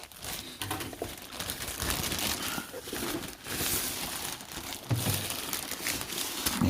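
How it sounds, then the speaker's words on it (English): A plastic bag being cut open while unboxing a projector, with continuous loud crinkling and rustling of the plastic close by, rising and falling throughout with no speech. "Cut the bag open."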